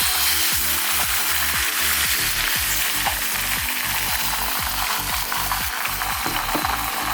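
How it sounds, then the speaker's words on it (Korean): Beaten egg sizzles steadily in a thinly oiled hot pan as a thin egg crepe cooks, a constant crackling hiss up close with faint scraping underneath. "그리고 잘 풀어진 계란을 넣어 계란지단을 만들어줍니다."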